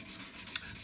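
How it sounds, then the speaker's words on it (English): A bone-like acoustic guitar saddle is rubbed back and forth on abrasive, giving a soft steady rasping scrape with one brief sharper scratch, close and quiet. "I'm sanding."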